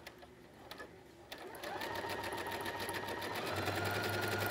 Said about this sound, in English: I am going to start stitching with a 1/2 inch seam allowance here.